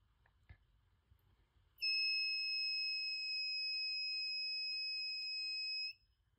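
An active buzzer driven by an Arduino, its volume set with a turning knob, gives one steady high electronic tone that starts abruptly, holds for about four seconds and cuts off, in an otherwise quiet room.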